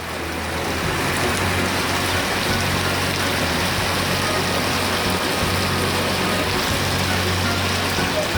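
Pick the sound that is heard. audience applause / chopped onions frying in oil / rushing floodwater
rushing floodwater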